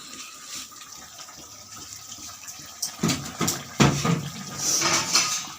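Water from one small bottle is poured into a cooking pot, starting as a quiet trickle, then splashing more loudly in a few surges toward the end, close up.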